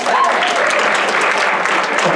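A studio audience at a comedy show bursts into dense, loud applause that holds steady for about two seconds, with no voices over it.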